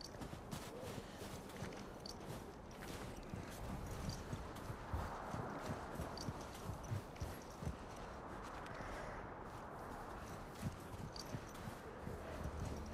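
Horse hooves clip-clopping in The Last of Us Part I video game, a steady run of muffled hoofbeats on the ground over faint ambient noise, with no talking.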